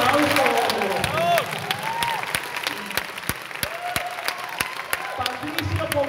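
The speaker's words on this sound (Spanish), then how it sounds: "¡Un aplauso!" Audience applause at a Mexican fan convention in Cuernavaca during a SpongeBob voice-actor show: a dense burst of crowd clapping and cheering that carries on throughout, with loud sharp claps standing out close by.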